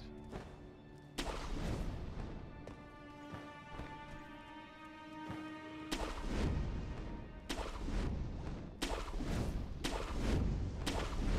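A gun-wielding boss firing in the action game Sekiro, a run of loud booming blasts spaced a second or two apart, each ringing out with metallic resonance over a low rumbling backdrop.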